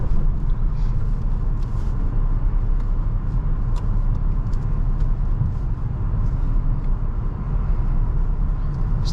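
A 2006 Mercedes-Benz E500 4Matic accelerates hard in comfort mode, a steady deep engine drone and road roar heard from inside the cabin, loud and continuous with no talking.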